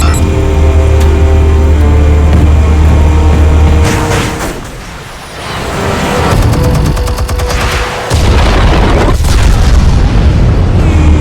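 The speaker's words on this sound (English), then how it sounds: "Explosives armed. Fire when ready." Explosions in the Batman: The Telltale Series video game, heavy and booming right up close, with a deep rumble in the first seconds, a brief dip, then dense crackling blasts and debris rattling.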